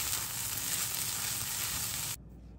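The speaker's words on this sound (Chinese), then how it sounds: "拌炒均匀就可以起锅" Green beans are stir-fried with veggie mince in a wok, giving a loud, steady sizzle that cuts off abruptly near the end and leaves a faint quiet tail.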